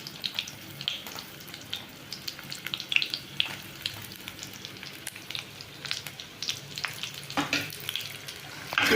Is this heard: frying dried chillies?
yes